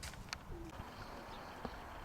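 Soft cooing of pigeons, likely a mating pair, at a distance, a short low call over a steady background hum, with faint rustling.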